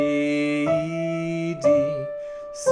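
A bowed string instrument plays a short stepwise run of sustained notes, each change of pitch clean and clear, with no voices.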